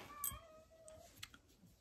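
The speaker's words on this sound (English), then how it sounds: "the cat seems to think that turning the video on means that he needs to yell at us." Domestic cat meows loudly in a quiet indoor room: one drawn-out cry at the start, a shorter call near the middle, and a few soft clicks and taps afterward.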